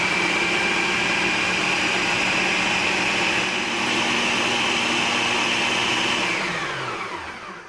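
A blender chopping apples, chilli and smoked garlic, a loud, steady motor whir held close for several seconds before it winds down at the end.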